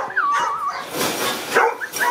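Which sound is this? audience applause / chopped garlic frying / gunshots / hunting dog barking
hunting dog barking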